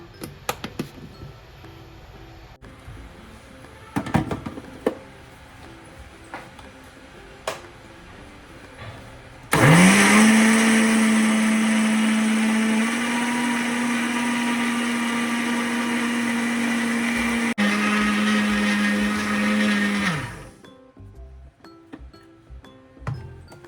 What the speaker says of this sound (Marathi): मिक्सरमध्ये पूर्ण पावडर जेवढं जमेल तेवढं बारीक वाटा